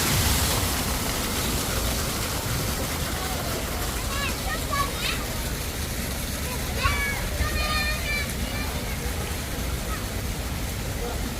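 Water jets at a children's outdoor water playground in Jongno, Seoul, hiss and splash in a continuous, dense wash of spray, with faint voices mixed in underneath.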